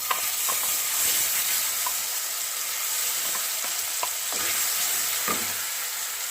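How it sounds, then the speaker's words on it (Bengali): Bean paste sizzles and fries in hot oil, a steady hiss with scattered crackles and pops as it is stirred in the pan, close and alone. "এবার আমি ওর মধ্যে শিম বাটাকে দিয়ে দিচ্ছি"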